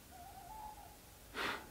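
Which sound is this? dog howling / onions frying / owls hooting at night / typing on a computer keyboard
owls hooting at night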